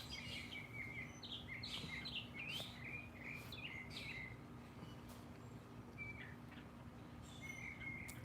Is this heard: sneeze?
no